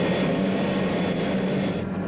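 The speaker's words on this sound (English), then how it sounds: "Then up the plane goes in a steep climb." A steady aircraft engine drones loudly inside a plane climbing steeply and banking, with a constant low hum and a sustained tone, without talking.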